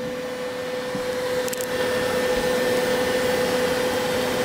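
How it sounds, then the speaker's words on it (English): A Bambu Lab X1 3D printer's fan switches on, a steady whirring hum rising slightly in level and holding on, with a brief faint click near the middle. "Now the fan's turning on."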